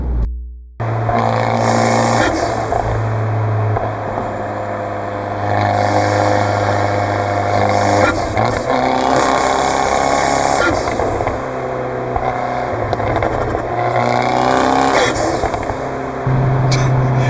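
Inside the cabin of a Fiat 124 Spider Abarth on the road, a mid-pitched engine drone holds and swells loudly through repeated acceleration pulls, with road and wind rumble throughout and one drop in revs partway through.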